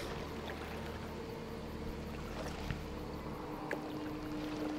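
Raft drifting down a river in the horror game Outlast 2, a steady rushing wash of flowing water with faint splashes and knocks, continuous and fairly quiet.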